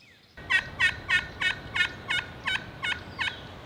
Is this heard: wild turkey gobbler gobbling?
yes